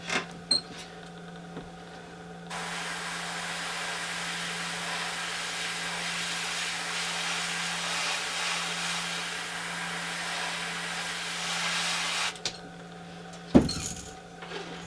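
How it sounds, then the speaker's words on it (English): A steady airbrush spraying paint hisses for about ten seconds close up, starting and stopping abruptly, with faint handling clicks before and after. "we are using the gallery airbrush again"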